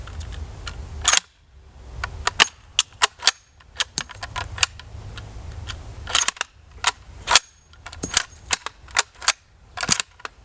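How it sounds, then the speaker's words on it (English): Dummy rounds are cycled through the bolt of an Italian M38 Carcano rifle in 7.35x51, giving a series of sharp metallic clacks and clicks, close and crisp, spaced irregularly with brief quiet gaps between. "These are dummy rounds, so as you lock them in and cycle each round"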